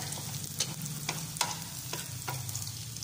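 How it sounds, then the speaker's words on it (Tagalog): Garlic sautéing in a pan makes a steady hissing sizzle, punctuated by a handful of sharp spatula clicks and scrapes at irregular intervals, close and moderately loud with no talking. "so ginisa ko yung bawang"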